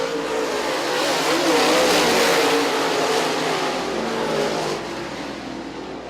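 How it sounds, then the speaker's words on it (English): Field of race cars rumbling down the back straightaway at I-96 Speedway during a last-chance race, a loud continuous engine roar with a whining pitch that fades slightly toward the end. "Field rumbles down the back straightaway."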